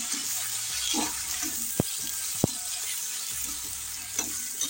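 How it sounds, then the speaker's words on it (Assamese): Leafy greens fry with panch phoron in hot oil in a kadai, giving a continuous close sizzle with bubbling spits and a couple of sharp clicks from stirring. "এয়া কেৰাহীত তেল দিলোঁ, গৰম হৈ গ'ল। ইয়াতে পাঁচফোৰণ কেইটামান দি দিলোঁ। এতিয়া শাকখিনি এড কৰি দিম।"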